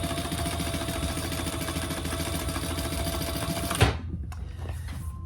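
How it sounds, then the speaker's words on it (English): A sewing machine runs steadily, top stitching along the bottom of a fabric bag, its rapid, even mechanical chatter close and loud before stopping abruptly, followed by a few faint handling clicks. "do a row of top stitching there. It just keeps the bottom looking good."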